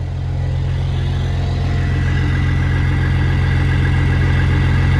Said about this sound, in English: So we're gonna let it run for a while. Brought the idle up a little bit.